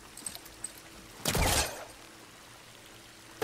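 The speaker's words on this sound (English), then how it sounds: "The water's still leaking. That main pipe." Water leaks from a main pipe in Horizon Forbidden West, a brief loud gushing pour that lasts about half a second in the middle, then another burst begins at the very end, with only faint clicks between.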